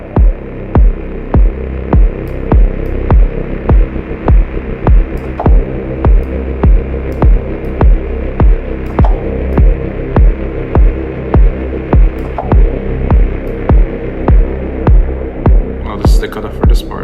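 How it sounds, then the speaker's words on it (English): Loud techno production loop in which a static, wind-like synth texture hisses over a pulsing kick drum with a steady throbbing rhythm, plus a faint bright flutter near the end. "This kind of static wind kind of thing."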